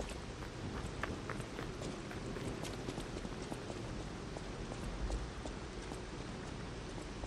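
Steady rain pours in the game Lies of P, a dense, even hiss filling the whole stretch with faint scattered patters and no voices.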